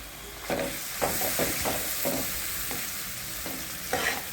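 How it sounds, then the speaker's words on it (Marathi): Masala with kitchen king spice and a splash of water stir-fried in oil in a pan for a pea and paneer curry: a steady close sizzle broken by repeated spatula scrapes and stirs, about one each half second, with no talk. "चांगलं परतून परतून द्यायचा तवा भाजी छान"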